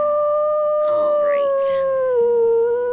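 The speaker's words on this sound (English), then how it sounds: "I thought I heard howling" Sustained wolf howl from the video game WolfQuest, a long loud steady tone that slowly falls in pitch, with a voice briefly speaking over it partway through.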